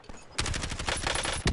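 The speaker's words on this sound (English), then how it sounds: "They're firing at me." Rapid enemy automatic gunfire in the Warzone video game, loud sustained bursts of shots fired close by, with a brief pause and then another burst.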